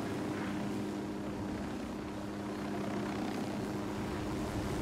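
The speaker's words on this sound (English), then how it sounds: "Don't blow the fucking helicopter up now." A helicopter in Ghost Recon Wildlands flies with a steady, droning rotor and engine hum that stays constant and fairly close throughout.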